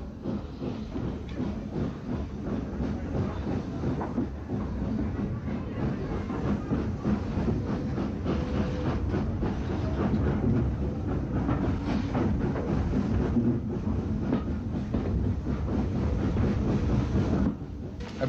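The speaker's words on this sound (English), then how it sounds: "At Brighton, the loco goes off to the shed for servicing." A Southern Railway steam locomotive in old film footage rolls along steadily with rhythmic clickety-clack and hiss, a muffled, band-limited rumble that continues for the whole stretch.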